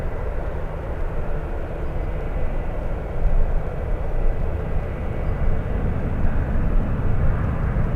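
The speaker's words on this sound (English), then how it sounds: "Let's go for the Hawaiian touching down" A Hawaiian Airlines jet arriving from Kona touches down at San Francisco airport with a loud, close, continuous low engine roar that builds slightly midway and heard alone.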